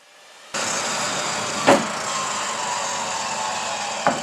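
A power saw trims wooden kitchen shelf boards, starting abruptly and running as a loud, steady whine for several seconds, with brief louder bursts as the blade bites the wood.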